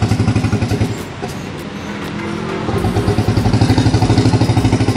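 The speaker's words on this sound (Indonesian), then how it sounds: "Ini kalau mesinnya nyala nih." A turbocharged Honda Beat scooter engine runs at a steady, close idle with a pulsing rhythmic chug, briefly easing off before returning to the same throbbing beat.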